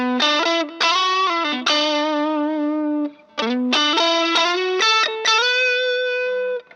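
Electric guitar on the neck pickup, run through a JHS Morning Glory overdrive with a booster and compressor, plays a loud sustained melodic line of held, bending notes in several phrases with a short gap midway, no voices.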